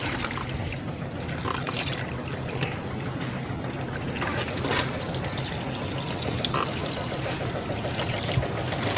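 Water poured onto garden plants in a small planting plot in Saudi Arabia, a continuous close splashing and trickling stream that runs steadily throughout.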